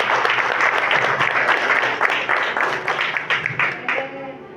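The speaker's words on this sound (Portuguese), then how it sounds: "E quem pode aplaudir o Espírito Santo por isso?" A church congregation applauding the Holy Spirit during a sermon, dense sustained clapping from many hands that thins and fades toward the end, with faint voices mixed in.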